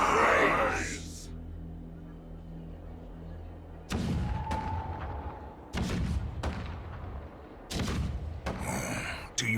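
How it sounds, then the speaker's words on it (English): Heavy cannon blasts boom in Honkai: Star Rail, four or five separate explosions spaced several seconds apart, each fading into a low rumble. "Do you hear that? The rumble of the cannons."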